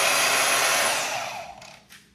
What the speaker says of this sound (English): this is my makeshift bandsaw when I have to do something with 2 hands. So I'll just take a portaband, set it in the vise